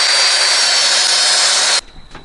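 A power saw cuts through pieces of wood while fitting a roof fan in a 2021 VW Crafter van, a loud steady whine that stops abruptly into a quiet room tone.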